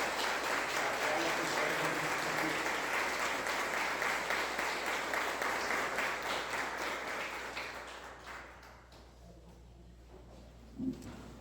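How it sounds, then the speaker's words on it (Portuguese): A church congregation at Sunday Mass gives a sustained round of applause, dense and steady for several seconds before fading away, with a faint voice and a small knock near the end. "Vamos dar uma salva de palmas para a palavra de Deus."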